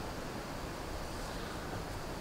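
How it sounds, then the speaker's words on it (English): Strong wind in open countryside beside a canal in Northamptonshire: a continuous broadband roar buffeting the microphone, steady and fairly loud throughout with no voices. "Very windy though"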